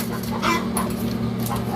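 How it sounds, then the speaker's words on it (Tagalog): A chicken clucks near a homemade egg incubator, several short, fairly loud clucks over a steady fan-like hum. "Nagkukutak na yung manok."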